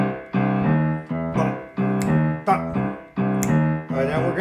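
Boogie woogie piano left hand played in a swung rhythm, repeating a steady bass pattern of harmonic notes with regular accented attacks, close and clear with no talk.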